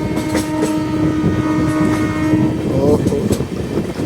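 The Shri Shakti Express passes close at full speed, sounding its horn as a long sustained blare over loud rolling wheel clatter, and a voice briefly exclaims.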